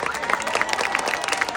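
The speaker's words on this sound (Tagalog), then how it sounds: "Bakit hindi niyo po sabay-sabay palakpakan? At hiyawan" An audience at a district pageant's national costume segment claps and cheers, a dense wash of applause with shouts rising through it, loud and continuous.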